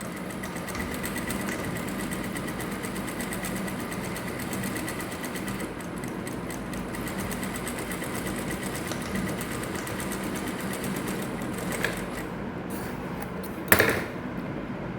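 A sewing machine runs a basic seam with a quarter-inch gap, giving a quiet, steady, continuous whir up close, with a sharp knock near the end.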